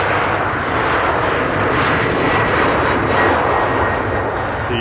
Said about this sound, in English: the aircraft comes past our position, you do hear a much louder sound